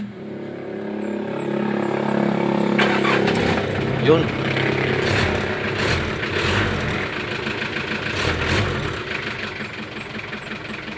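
A warm car engine runs after being restarted during a hard-starting check, idling with a few revs rising and falling, close up, while someone talks over it.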